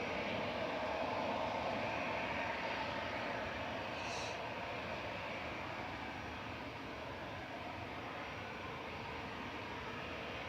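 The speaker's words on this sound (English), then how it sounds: "Here, an Air France 777-300 just going over. Very noisy." An Air France Boeing 777-300 passes overhead at Manchester Airport, heard as a steady, faint, distant broadband jet roar that holds evenly for the whole stretch.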